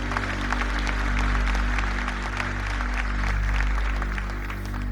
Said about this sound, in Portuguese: E pode aplaudir o nome do Senhor aí.